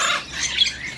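A bird in a bird shop lets out a harsh, shrill squawk up close, a single brief raspy call filling the moment.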